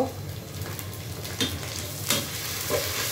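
Onions frying in a pan give a steady, close hiss of sizzling with a few faint stirring clicks scattered through it.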